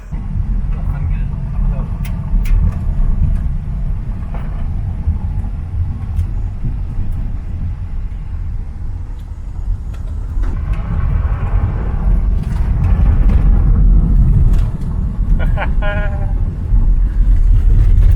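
A Holden car drives on a quick ride, its steady low engine and road rumble continuous throughout and swelling louder in the second half, with people talking over it.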